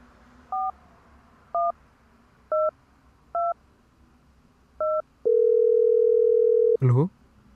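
Five short two-tone telephone keypad beeps sound in an even sequence, followed by a long steady dial-type tone, then a brief noisy burst at the end, all close and clear with no talking.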